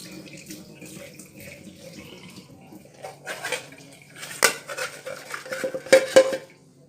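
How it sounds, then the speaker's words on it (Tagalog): Tap water runs into a metal cooking pot holding pork bones, a soft stream at first, then louder splashing, clanks and knocks of the pot in a sink. "Tapos, lagyan siya ulit ng tubig."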